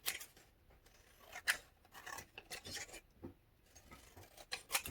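Scissors snipping paper ephemera for a rose-themed junk journal, several close, crisp cuts in an uneven rhythm with soft rustling of paper between them, no voices.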